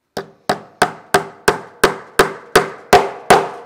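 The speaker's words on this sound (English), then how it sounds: "I just want to double check that we're still flush before I hammer off my second nail" Ten sharp, evenly spaced hammer blows drive a nail into the wooden frame of a homemade lap desk, each strike ringing briefly with a woody knock, close and loud, no talking.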